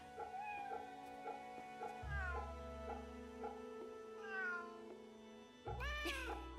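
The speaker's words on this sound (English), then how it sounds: "Ooh, hello, kitty." A cat meows in the video game Fate/Samurai Remnant, giving a few short mews over steady background music, with a louder, brighter cry near the end.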